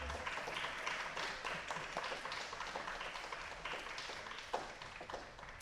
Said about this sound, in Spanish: Un aplauso a la maestra Blanca también